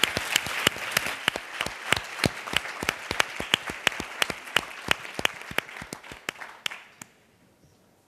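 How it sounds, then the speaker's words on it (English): A conference plenary audience claps for panel speakers, a dense burst of applause with sharp, rapid claps that holds steady for several seconds, then thins out and stops abruptly, leaving quiet room tone. "Please join me in applauding them."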